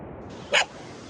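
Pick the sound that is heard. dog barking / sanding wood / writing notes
dog barking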